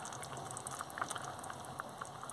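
Tomato sauce with olives simmering gently in a pan over moderate heat, a faint soft bubbling with small scattered pops and ticks over a low steady background.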